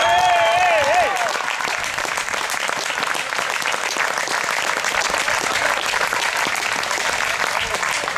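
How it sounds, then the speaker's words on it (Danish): An audience at Nyborg Kampdage 2016 bursts into loud, sustained applause for an award winner, with dense clapping filling the whole stretch after a brief bit of announcer voice at the start. "Giv et stort bifald til Andreas Dollerang"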